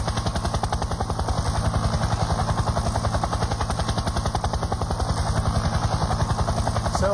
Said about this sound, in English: is going to fly the helicopter inside the audience.